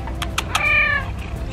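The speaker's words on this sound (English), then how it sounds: "The neighbor's cat has decided to come and join me." Neighbor's cat in a sunny garden giving one close, rising meow after a few soft clicks and rustles, with quiet outdoor ambience behind it.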